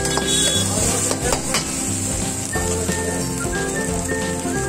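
Chopped cabbage with garlic and chilli frying for veg Manchurian at an Indian street food stall in Nashik, a steady loud sizzle with metal utensil clinks and scraping against the pan.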